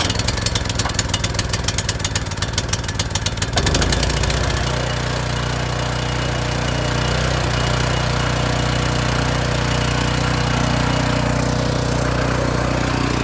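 Cold start of a Powermate 18-inch 196cc gas four-cycle rear tine tiller engine: rapid pull-cord cranking sputters for a few seconds, then the motor catches and settles into a steady, loud close-up idle.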